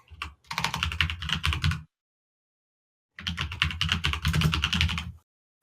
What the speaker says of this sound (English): And if she's typing